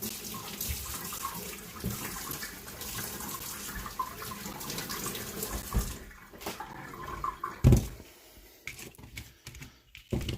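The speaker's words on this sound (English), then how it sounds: "Alright, let's wash the celery." Water runs from a kitchen tap onto celery being washed, a steady close hiss that cuts off partway through, followed by quieter clatter and handling sounds.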